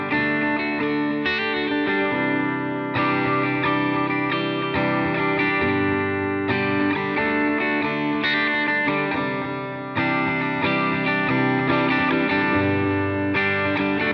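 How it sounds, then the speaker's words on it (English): Electric guitar chords through Positive Grid Bias FX 2 LE delay and reverb ring out continuously, smeared by echoing repeats and a washy reverb tail, loud and steady with no talking. "Now you can hear there's some effects on there. We have this delay and reverb."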